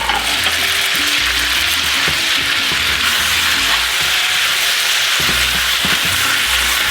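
Green onion hitting a hot wok of twice cooked pork, a dense, loud, continuous frying hiss with occasional stirring clatter underneath and no talking.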